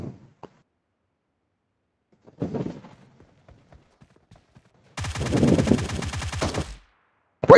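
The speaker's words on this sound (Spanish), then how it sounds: "Wey, está disparando." Gunfire in a battle royale video game: a short spatter of shots, then a sustained rapid automatic burst lasting over a second and a half, loud and close, with brief quiet gaps and a final shot.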